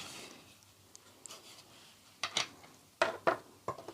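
A pen scratches along the edge of a window template on paper in short, close, quiet strokes, with sharper bursts near the end.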